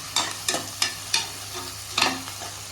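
Onion frying in oil in a home kitchen, with a steady low sizzle under five sharp, evenly spaced scraping stirs of a spatula against the pan.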